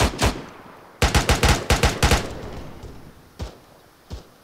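Gunfire in ArmA 3, a tactical military game: two quick shots open, then a rapid burst of about eight loud reports, followed after a pause by two single, slightly quieter shots spaced apart.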